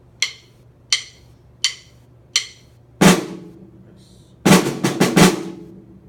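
Snare drum struck with sticks: four evenly spaced sharp clicks, then a flam, a rest, a quick burst of sixteenth notes and a closing quarter note, close and crisp with no talking.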